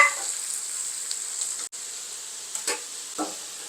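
Onions frying in a pan for ragi sangati and chicken pulusu, with a steady, close sizzle broken by a brief pause and a few soft stirring scrapes.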